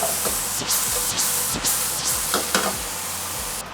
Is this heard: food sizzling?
yes